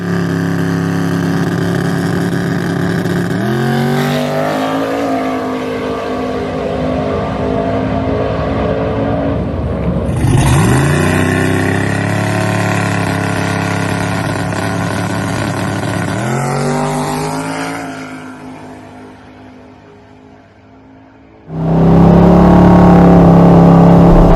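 A stock block LS drag car running over 40 psi of boost accelerates hard down the strip, its engine roaring loud and rising in pitch through gear changes before fading away, then a second loud engine burst at the end.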